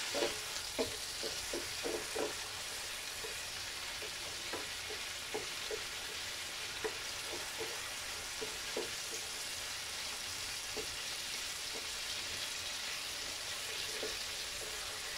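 Sautéed tomatoes are stirred in a pan for a ginisang upo dish with corned tuna, giving a faint, steady sizzle with scattered soft spoon scrapes and clicks, quiet and without talk.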